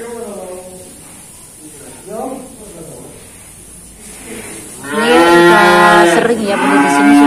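Cattle at a cattle dealer's pen, black feeder cattle among them, give drawn-out moos, a loud one swelling near the end, while people talk in the background.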